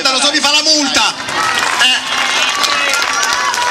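Audience applause at a school road-safety event in Soleto, a dense wash of clapping that swells after a voice in the first second and then carries steadily to the end.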